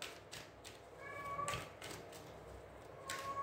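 A cat meows softly in a quiet indoor room, giving one or two short, thin calls against low background hiss.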